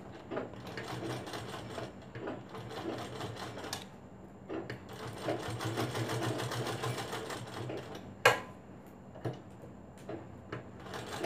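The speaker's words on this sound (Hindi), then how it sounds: "केवल एक सिलाई से इसको चिपकाना है।" An electric sewing machine stitches a blouse piece in quick, rhythmic mechanical bursts. The bursts are separated by short pauses and sharp clicks of handling, and the sound is close and fairly quiet.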